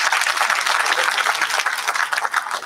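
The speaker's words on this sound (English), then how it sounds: "I just huge round of applause for them" Loud, dense audience applause rings out for a film team at a screening event, a continuous close wash of many hands clapping with no talk over it.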